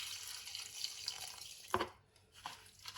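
Leafy greens are washed by hand in water, with splashing, dripping and sloshing that swells and fades in uneven bursts close by, and no talking.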